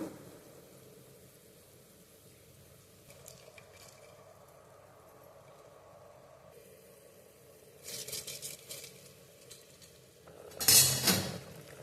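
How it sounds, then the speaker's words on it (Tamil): Quiet kitchen background, then a spoon scraping and stirring rice in a cooker pot, growing louder with clattering metal near the end. "அரிசி சேர்த்துட்டு ஒரு கிளறி விட்டுட்டு"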